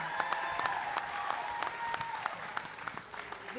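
An audience at a pitch competition applauds steadily, a fairly faint wash of clapping with a few sharper individual claps standing out.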